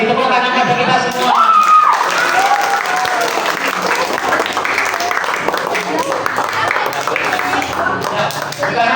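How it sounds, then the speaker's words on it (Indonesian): Classroom applause during a guidance lesson, loud sustained clapping from a group of students with voices and cheering mixed in, fading slightly toward the end. "Tepuk tangan pada kita semua."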